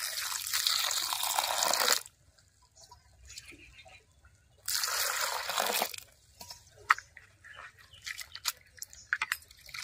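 Water is poured over grated raw potatoes to rinse them, with two loud rushing bursts of pouring separated by quieter dripping, trickling and clinking of the bowl nearby.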